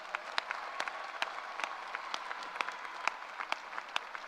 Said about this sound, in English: Let's give our Lieutenant Governor another round of applause.